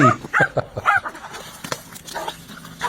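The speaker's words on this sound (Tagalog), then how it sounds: "These two dogs are very brave. They want to kill the snake." Two dogs attacking a snake let out sharp, excited barks and yips in quick uneven bursts, close and loud at first, then thinner whimpering yelps as the scuffle goes on.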